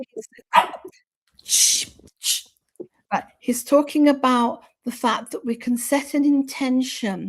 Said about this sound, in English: that's my dog joining in.